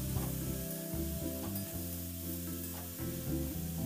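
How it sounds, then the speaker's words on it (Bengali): Mustard greens with brinjal sizzle in a pan over a medium flame while being stirred, a continuous close frying hiss with scraping turns and a faint tonal hum underneath. "শাকটাকে মিডিয়াম ফ্লেমে নাড়াচাড়া করে আরও আমি মিনিট 3-4 মতো সময়"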